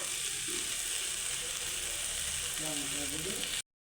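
Ground chili, turmeric and cumin stirred into frying oil with ridge gourd in a pan, a steady close sizzle with scraping, rattling stir strokes that stop abruptly at the end.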